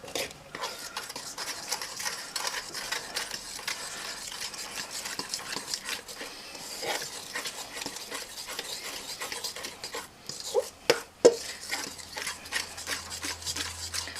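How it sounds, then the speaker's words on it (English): Milk being stirred into drop scone batter in a bowl, a close, continuous scraping and swishing of a spoon or whisk against the sides, steady for most of the time with a few sharper knocks near the end. "and mix it up"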